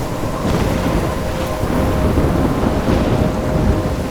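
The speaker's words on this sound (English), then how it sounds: "I'm trapped in a storm?" A thunderstorm in the video game Life is Strange Remastered rumbles continuously, with heavy rain and wind forming a dense, steady wash of noise and thunder rolling through it, with no voices.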